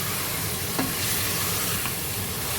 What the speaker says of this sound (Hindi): प्याज जो है उसके साथ भून रहे हैं, मसाले भी भून रहे हैं